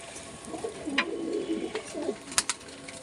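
A pigeon being fed gives low, rolling coos in several short bursts, close and moderately loud, with a few sharp clicks and taps near the end and no talking.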